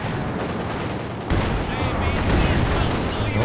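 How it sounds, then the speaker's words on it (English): Anti-tank grenades burst in Company of Heroes 2 amid a busy battle. Dense rattling gunfire runs throughout, a sharp louder impact lands about a third of the way in, and a commentator's voice talks over the din. "Oh, well-timed AT grenades"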